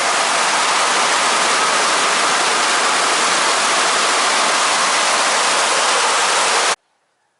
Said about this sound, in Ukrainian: ну дощ ліпить